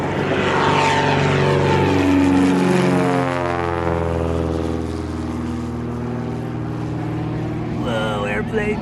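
A propeller airplane at a fly-in event makes a close, loud pass. Its buzzing drone rises, then falls in pitch as it sweeps by and fades away, with brief voices near the end.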